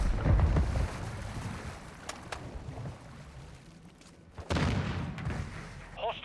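Call of Duty Modern Warfare II grenade blast during a multiplayer firefight: a sharp explosion bursts out amid rumbling battle noise and scattered shots, with muffled effects between the louder moments.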